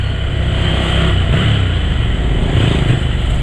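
An 800cc Ducati Scrambler motorcycle engine drones steadily at close range while riding, its low rumbling hum holding constant throughout.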